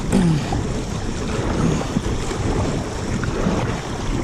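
Fast-moving water on the Catawba River in Morganton, North Carolina, rushing around a fishing kayak, a constant loud broadband wash with wind buffeting the microphone and no talking.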